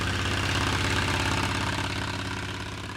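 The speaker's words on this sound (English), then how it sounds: "The engine, it's an inverted V twin, so it sort of has this sort of Harley Davidson motorcycle sound to it" A steady, throbbing inverted V-twin engine on a Spirit SE-1 light aircraft with a fixed-pitch wooden Sensenich propeller, running at idle, its low, loping Harley-like rhythm close and loud, fading slightly toward the end.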